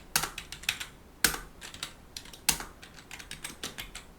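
Quick bursts of clicking keystrokes on a computer keyboard as web code is typed, with pauses and a few louder key presses in between, heard close with no talking.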